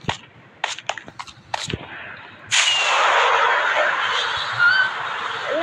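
Minecraft fireworks launch with a few quick popping thuds, then a loud sustained crackling, fizzing burst that fills the rest of the moment, close and bright in the game world.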